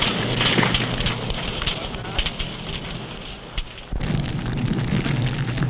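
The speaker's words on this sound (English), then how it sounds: "Sometimes the explosive detonates because of close confinement and intense heat." An explosive detonating under close confinement and intense heat in a nuclear weapons safety test, heard as a sustained roaring, crackling blast with a sharp surge partway through.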